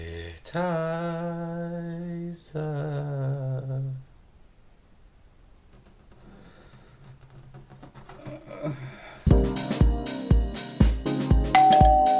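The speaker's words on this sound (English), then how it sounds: "We're talking about doorbells, innit?" Doorbell chimes play twice at the start as a long ringing tone, then after a quiet gap a rapid series of louder electronic rings and clicks follows near the mic.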